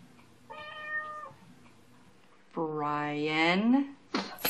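A cat meows in a high-speed internet commercial, a short meow followed by a longer, louder drawn-out meow, with a further vocal burst at the end and no clear speech.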